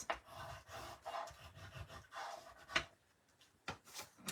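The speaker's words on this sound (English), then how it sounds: "Now, let's go ahead and varnish this." Varnish is brushed onto a craft project in quiet, intermittent rubbing strokes, each soft swish separated by short pauses.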